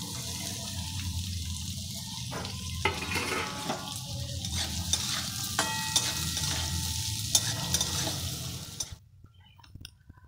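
Carrots and beans fry together in a pan, with a continuous close sizzle and crackle. A spatula scrapes and stirs now and then before the sound cuts off near the end. No voices.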